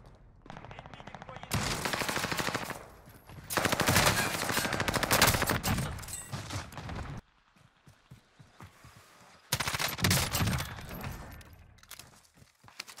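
M13 rifle fire in a shooter video game: dense bursts of rapid automatic shots, loud and close, in several stretches separated by brief quieter gaps with faint background noise.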